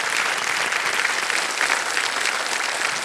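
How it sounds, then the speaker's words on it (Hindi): Studio audience on a Hindi television quiz show breaks into steady, loud applause, a dense wash of clapping that holds evenly throughout with no pauses. "ताली बज जाए।"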